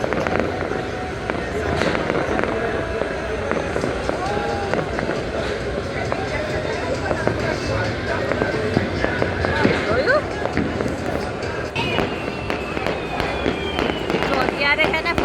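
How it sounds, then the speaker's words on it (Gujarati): Fireworks and firecrackers during the Uttarayan kite festival in an old Ahmedabad neighbourhood crackle and pop continuously at a distance, with scattered sharper bangs and people talking over the din. "અત્યારે છે ને ફટાકડા ફૂટે છે આખામાં, આખી ઉત્તરાયણમાં"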